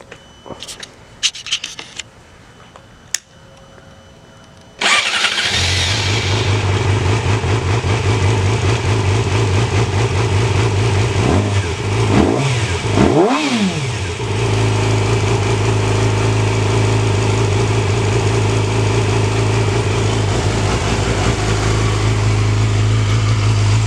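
A 2007 Yamaha R6 motorcycle fitted with a slip-on exhaust cranks and fires up after some handling clicks, then settles into a steady loud idle broken by a couple of sharp throttle blips midway.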